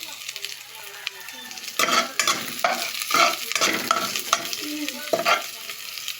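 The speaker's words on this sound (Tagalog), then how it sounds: "Ginigisa ko lang yung bawang" Garlic, onion and ginger sautéing in a pan, a close, continuous sizzle broken by several louder bursts of stirring and scraping as the aromatics are tossed.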